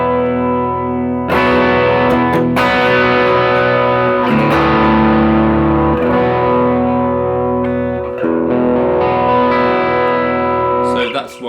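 Distorted electric guitar in drop D tuning strums a sustained, heavily effected chord, re-struck several times with a full, ringing tone over about eleven seconds, loud and close.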